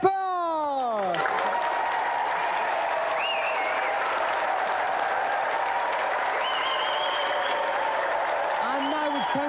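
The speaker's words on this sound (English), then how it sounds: "So let's have another round of applause for tonight's competitor, Nick Kapoor!" Television game show studio audience applauding and cheering for a contestant, a steady loud roar of clapping sustained throughout, with a host's voice and electronic sound effects sweeping over it.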